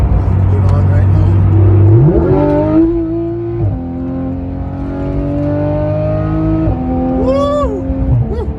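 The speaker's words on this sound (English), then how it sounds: "That exhaust is worth every single dollar." Porsche GT3 RS with an aftermarket exhaust accelerating onto a highway, a loud close engine drone that rises sharply in pitch, then holds high and climbs again through gear changes, with a voice briefly heard near the end.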